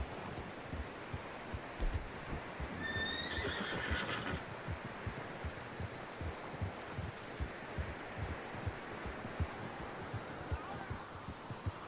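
A horse in the Western video game Red Dead Redemption 2 gives a sharp whinny, with steady clip-clop hoofbeats and rustling underneath throughout.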